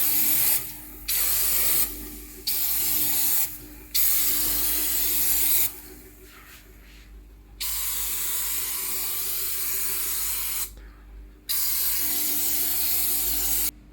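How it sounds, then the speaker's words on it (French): Cleaner pumped from a shaken spray bottle inside an oven for a deep clean, heard as several sharp close hissing bursts of uneven length separated by short pauses, with no talking. "je vais venir pulvériser en faisant attention de ne pas mettre dans la bouche d'aération du"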